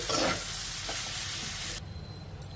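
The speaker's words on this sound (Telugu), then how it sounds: "పొడి అనేది కొద్ది కొద్దిగా వేసుకుంటూ కలుపుకోవాలి." Spice powder is stirred into a frying pan over low flame, with a steady scraping stir and a soft sizzle close by. The loudest scrape comes at the start, and the stirring then eases off.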